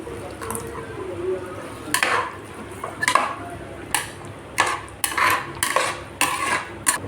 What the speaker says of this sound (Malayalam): ഇനി ഇതിലേക്ക് കുറച്ച് തൈര് ചേർക്കാം.